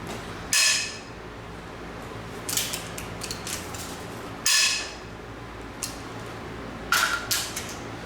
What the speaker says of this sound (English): Just gonna break them loose right now.